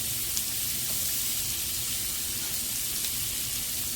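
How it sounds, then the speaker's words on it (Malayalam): Two chopped onions sizzle in hot oil in a pan for green peas kurma, a steady, close frying hiss that stays even throughout. "അതിലേക്ക് നമ്മൾ അരിഞ്ഞ് വെച്ചിരിക്കുന്ന സവാള ഇടുക"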